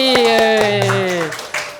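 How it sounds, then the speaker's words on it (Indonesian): Classroom audience giving a round of claps, a few sharp hand claps in quick rhythm over loud overlapping voices that trail off. "Kita beri tepuk tangan 1 kali lagi"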